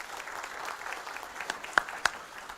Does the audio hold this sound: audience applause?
yes